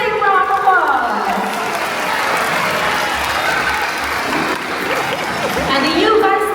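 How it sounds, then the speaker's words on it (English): Audience applause at a feather fox show in Singapore, a crowd clapping steadily with a voice talking over it near the start and end. "Everybody, let's give them a big round of applause."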